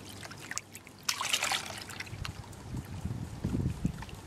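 Roasted, finely ground sulfides are swirled in a gold pan of water, giving close sloshing and trickling splashes with a brief louder wash partway through.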